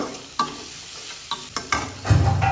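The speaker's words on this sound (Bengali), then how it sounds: "তেলটা একটু কম হয়েছে তাই আর একটু তেল দিলাম।" Extra oil added to a pan while cooking with prawns and Malabar spinach, a hissing sizzle broken by several sharp scrapes and knocks of a spatula, swelling louder near the end.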